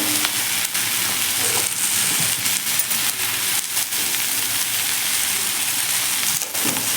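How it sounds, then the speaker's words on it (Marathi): Onion fries in oil in a pan, filling the clip with a dense, continuous crackling sizzle broken by a few sharper pops and stirring sounds, no talking. "आपण ही भेंडी तळून घेऊयात आणि हा कांदा देखील फ्राय करून घेऊयात आपला कांदा हलकासा परतत आलेला आहे"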